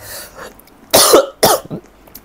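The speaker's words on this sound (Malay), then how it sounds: "Terbatuk sih." Two sharp, close coughs in quick succession, each a short broadband burst, with faint murmuring before them and a small trailing sound after.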